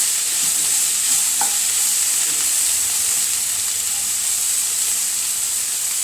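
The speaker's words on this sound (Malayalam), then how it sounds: "കുറച്ച് എണ്ണ എടുത്ത് കൊടുക്കട്ടെ. അതറിഞ്ഞൊന്ന് ഫ്രൈ ആവട്ടെ." Okra fries in oil in a pan, giving a loud, continuous hiss and sizzle with occasional faint stirring clicks, steady throughout and close up, with no talking.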